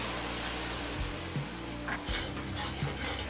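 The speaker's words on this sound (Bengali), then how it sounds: "জল দিয়ে সমস্ত মশলা ভালোভাবে মিশিয়ে নিলাম।" A spoon scrapes and stirs ground turmeric, cumin and coriander with a little water in a pan for prawn pulao, giving soft, close scraping strokes with a light wet sizzle.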